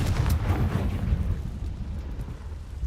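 The Confringo fire spell in Hogwarts Legacy goes off as a heavy rumbling blast that fades into a dull roaring tail, loud and alone without talking.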